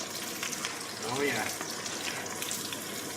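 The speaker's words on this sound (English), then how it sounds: "let's pour the onion in" Onions hit a hot pan and start frying for chicken karahi, a sizzling, hissing burst that settles into a steady crackle while someone speaks briefly over it.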